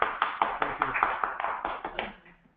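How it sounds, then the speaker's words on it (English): Several people clap their hands in a quick, even rhythm of about a dozen crisp claps at moderate volume, tapering off at the end. "we're going to clap our hands"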